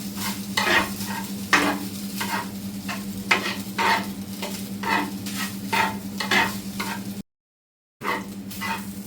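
Beef fried rice with egg is stirred in a frying pan, rhythmic scraping and tossing strokes over a continuous sizzle, with a brief silent gap near the end.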